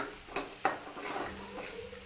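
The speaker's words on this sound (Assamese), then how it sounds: "আকৌ ধুনীয়াকৈ লৰাই লৈছে।" Turmeric and cumin in a pan of fish curry with ridge gourd are stirred, with a few sharp spoon scrapes over a steady sizzle of frying.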